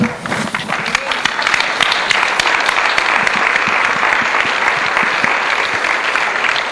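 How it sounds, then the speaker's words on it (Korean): A church congregation gives sustained applause in worship, dense clapping from many hands filling the room at steady loudness throughout, with voices faintly mixed in. "박수를 드리겠습니다"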